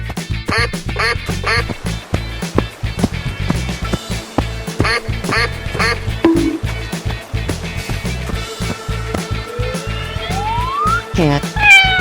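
A cartoon duck quacks in repeated bright, nasal calls over a steady bouncy children's music bed, ending with a rising whistle-like slide.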